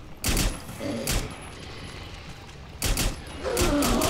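A shotgun fires in Rainbow Six Extraction, with sharp broadband blasts in short clusters, two or three shots at a time, close and loud, separated by a brief lull, while voices are faintly heard between shots.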